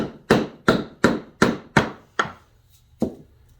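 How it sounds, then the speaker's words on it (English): A wooden mallet strikes a chisel against a pen resin blank on a lathe: six sharp, loud knocks in a steady rhythm, a brief pause, then one final strike, each with a quick ringing decay. "Need my mallet and my chisel."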